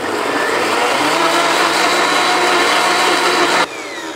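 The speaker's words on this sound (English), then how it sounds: "we're gonna blend it for about 1 minute straight" A high-power blender runs steadily at full speed, blending a thick, gooey vegan cheese mixture with a loud, dense whir that stays constant and then drops in pitch and level near the end, with no talking.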